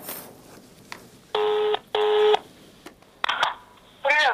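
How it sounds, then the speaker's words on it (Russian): Telephone keypad tones sound in short bursts, several spaced beeps as a number is dialed on a phone, fairly clear with quiet background and no talk. "Давайте позвоним Солнцу."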